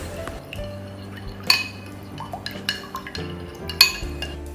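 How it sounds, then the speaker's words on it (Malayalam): Eggs, milk and salt being mixed in a bowl, with scattered clinks of a utensil against the dish and soft stirring, close and fairly quiet. "ഇതിലേക്കൊരു 1/3 കപ്പ് പാലും കൂടി ചേർത്ത് കൊടുക്കാം. പിന്നെ പാകത്തിന് ഉപ്പും ചേർത്ത് കൊടുത്തിട്ട് ഇത് നന്നായിട്ടൊന്ന് മിക്സ് ചെയ്ത് കൊടുക്കണം."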